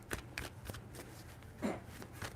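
Tarot cards are shuffled by hand, a quick run of crisp riffling bursts, close and fairly soft, with no talk over them.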